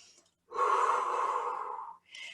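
One deep breath close to the microphone, a long, steady, airy exhale following a short intake, then the start of another inhale.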